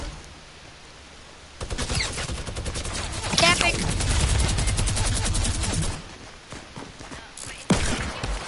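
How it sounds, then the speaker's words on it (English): Sustained minigun fire in a video game rattles as a dense, rapid burst for about four seconds, then cuts off. Scattered quieter shots and game noise follow, and a voice briefly cuts in during the firing. "He's holding a minigun and waiting for us."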